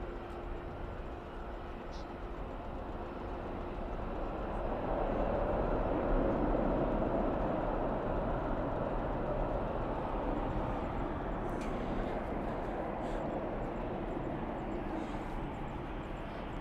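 Airliner landing at Dallas/Fort Worth International Airport at night with spoilers up and thrust reversers deployed, a steady broadband roar that swells toward the middle and then holds, heard from a distance.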